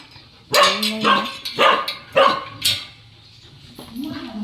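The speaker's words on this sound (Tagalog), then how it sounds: "Kala ko may dumating. Yun pala, si Askal" A dog barks five times in quick succession at close range, loud and sharp, followed by a short whine or yip at the end; no talk over the barks.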